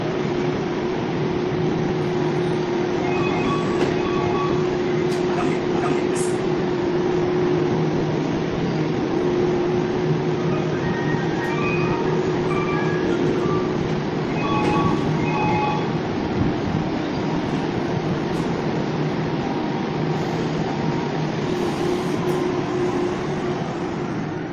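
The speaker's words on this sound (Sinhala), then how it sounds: "අනිත් සයිඩ් එකට ට්‍රේන් එකක් ආවා" A Yui Rail monorail train comes into a station in Japan. A steady, loud rolling rumble and whine carries on throughout, with faint squeals and clicks and no talking.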